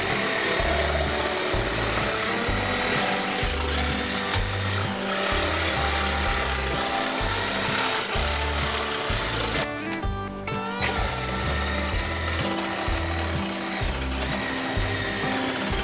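A loud power tool runs steadily while cutting excess OSB sheathing out of a window opening in a shop attic. It gives a rhythmic buzzing drone with a brief pause near the end.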